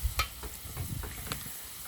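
Potatoes fry on a sadj pan with a soft steady sizzle and a few clicks of stirring close by.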